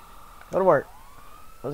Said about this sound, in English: My siren's still going off.